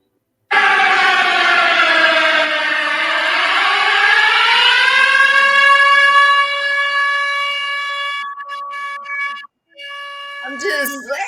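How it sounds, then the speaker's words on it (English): A loud wailing siren dips, then rises and holds a steady tone for several seconds before cutting out, with a few brief noises at the end. "Sound the siren."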